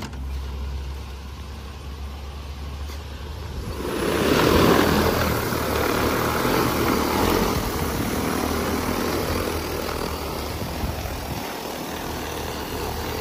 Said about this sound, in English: let's start by taking off of this drone here